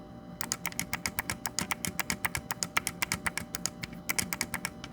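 The mechanical D-pad on a Razer Wolverine V2 Chroma controller is pressed rapidly. Dozens of crisp, close clicks come in a fairly steady, quick rhythm over a low hum, with no one talking.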